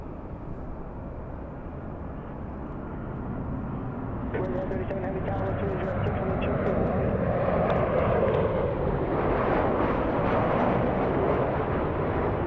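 A Southwest Airlines airliner arriving from Las Vegas, Nevada, its jet roar building steadily from a distant rumble to a louder, fuller wash of engine noise.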